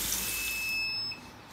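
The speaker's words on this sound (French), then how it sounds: "là juste derrière c'est mon lave-vaisselle qui vient de terminer" A dishwasher in a home kitchen signals the end of its cycle with a thin, high electronic tone that holds steadily, then cuts off, over a faint watery background.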